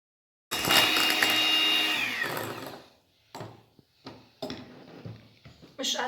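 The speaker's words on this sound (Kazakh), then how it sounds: "Және тағы да миксерлейміз." An electric mixer beats dough for a Turkish wet chocolate cake, whining loudly for about two seconds before winding down. Short clattering bursts of mixing and handling follow, and a voice is heard at times.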